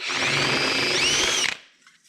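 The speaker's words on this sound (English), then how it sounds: "you got to drill 1 size bigger with a step bit" A power drill with a step bit bores a hole for fitting DRT Motorsports intake grilles on a KRX, a loud steady high whine rising in pitch, then cutting off abruptly with a brief rattle.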